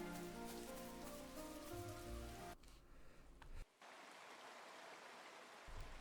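Rain falls steadily in the video game Chained Echoes, a dense continuous hiss, with game music audible at first before only the rain remains.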